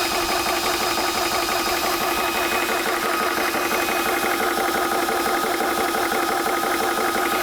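A Spritech 4500 PSI portable 12-volt PCP air compressor runs steadily and loudly throughout, a continuous mechanical drone with fast piston chatter and broadband hiss, outdoors on a hot day.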